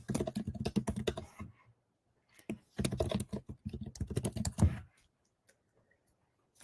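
Someone types on a computer keyboard in two quick runs of close, crisp key clicks, separated by a short pause and followed by near silence.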